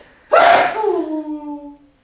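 A person sneezes once, loud and close, with a sharp burst followed by a trailing, voiced tail that fades over about a second and a half.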